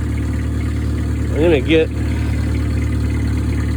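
An IH 154 Cub Lo Boy tractor plowing snow, its engine drumming along at a steady low idle under a brief spoken phrase from a nearby man.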